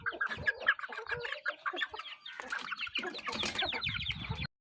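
Kamalia bloodline gamecock roosters cluck and call continuously at close range, a busy run of clucks and squawks with no speech over them.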